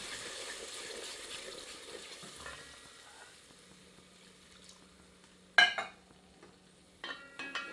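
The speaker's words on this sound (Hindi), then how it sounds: "इसमें आधा कप के लगभग पानी सम्मिलित कर देते हैं" Chicken kofta curry simmers with a quiet sizzle in a pan, then about half a cup of water is added and a sharp hiss and splash erupts, followed by a few more brief spits and bubbling.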